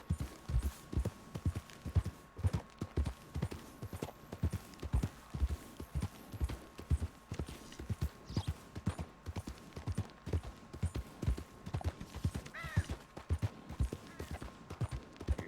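Horse hooves clip-clop in a steady walking rhythm throughout a ride in the video game Red Dead Redemption 2, set against a faint hum.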